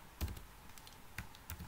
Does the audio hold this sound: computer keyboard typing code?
yes